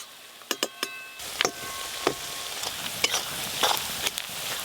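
Onion and whole spices fry in a pan while being stirred, with a soft steady sizzle broken by sharp scraping and clinking stir strokes.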